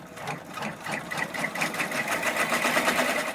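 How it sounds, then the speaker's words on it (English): An embroidery machine stitches out a placement line, a fast rhythmic mechanical whirring and ticking that runs steadily and close by, growing slightly louder, with no speech. "I'm going to hit go, and it's going to stitch out just the placement"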